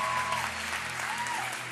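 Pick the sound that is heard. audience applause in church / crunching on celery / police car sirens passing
audience applause in church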